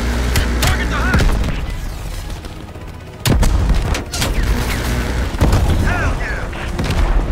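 Heavy gunfire and explosions in Call of Duty: Black Ops Cold War, with loud rattling shots and deep booms. A brief quiet gap comes near the middle before the barrage resumes, and a voice speaks briefly.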